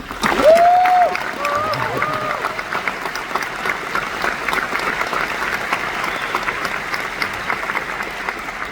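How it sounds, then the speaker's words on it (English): A crowd at a high school graduation ceremony gives a round of applause, steady and moderately loud clapping with some cheering, and a brief whistle or voice rising near the start. "if we could give them a round of applause, that'd be amazing"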